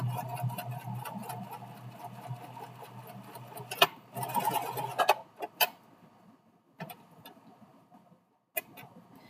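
A sewing machine stitches through many layers of fabric and lining while a boxy zipper pouch is being made. It runs in a steady, close whirring rhythm, then stops and restarts with sharp clicks and short bursts.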